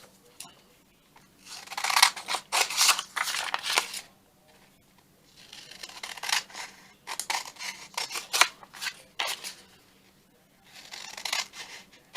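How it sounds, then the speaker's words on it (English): Fabric scissors cutting rusty-looking craft paper for junk journal ephemera, a run of crisp snipping and rustling in two bursts separated by short pauses, close and clear with no talk. "fabric scissors."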